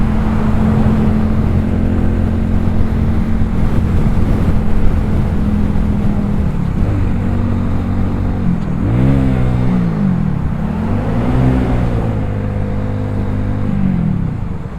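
A small, underpowered XMT 250 beginner motorcycle cruises at highway speed, its engine droning steadily under heavy wind rush, with the pitch dipping and swelling through gear and throttle changes near the end.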